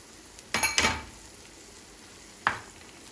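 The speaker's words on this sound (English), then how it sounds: "Now we'll add palak on it." Spinach tipped into a hot, oil-releasing masala in a pan for palak paneer, giving a couple of quick, sharp sizzling bursts close up, then a quiet pause and one more short sizzle and scrape.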